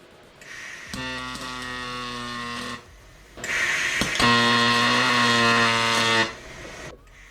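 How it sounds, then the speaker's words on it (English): A pulse MIG welder laying a long bead on aluminium, giving two loud sustained buzzing bursts with a rapid tonal pulsing drone, separated by a brief pause, close and with no talk. "And well, this is how a pulse MIG welder sounds."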